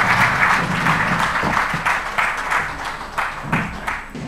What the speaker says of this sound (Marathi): जोरदार टाळ्या आपण एकदा त्यांच्यासाठी वाजवा.